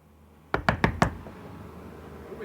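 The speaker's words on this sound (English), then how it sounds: "It's your friend, Glenville. Open the door, please" Four quick, firm raps on a door, close and loud, end in a short burst, followed by quiet room tone.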